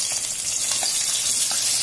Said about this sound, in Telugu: ఉల్లిపాయలు వేస్తున్నాను చూడండి